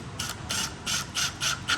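Four screws being driven back into plastic threads while reinstalling a seat back, giving a series of close, rhythmic ratcheting clicks in short bursts, with no talking.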